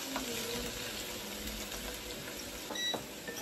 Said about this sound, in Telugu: ఆనియన్స్ అయితే కొంచెం అట్లా ఫ్రై చేయనిద్దాం